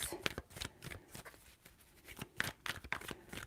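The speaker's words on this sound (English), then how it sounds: "3 shuffles for Aries." Tarot cards being shuffled in a run of crisp, riffling bursts with short pauses between them, close and moderately quiet, under a faint background voice.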